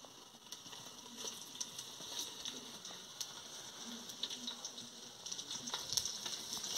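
Mustard seeds and cumin sizzle in hot oil, a faint, steady crackle with scattered sharp pops and spits as the seeds fry, no talking over it.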